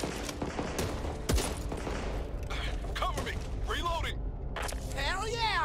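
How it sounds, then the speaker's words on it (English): A minigun rips out sustained automatic fire in the video game Back 4 Blood, a dense rattling barrage with mechanical whirring, mixed with other game effects and talk. "minigun!"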